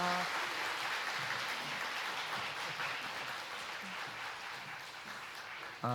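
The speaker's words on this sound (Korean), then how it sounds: "우리 목사님 나오실 때에 우리 큰 박수로 환영토록 하겠습니다" Loud, sustained applause from a church congregation welcoming a pastor, a dense wash of clapping lasting several seconds with faint voices underneath.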